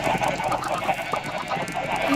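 Chickens cluck in Minecraft, a dense overlapping chorus of fowl calls that continues steadily throughout with no talk.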